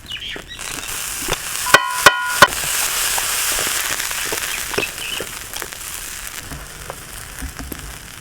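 Dosa batter topped with beaten egg sizzles on a hot pan with oil, a steady broad hiss throughout, broken early by a few sharp clanks of utensils against the pan.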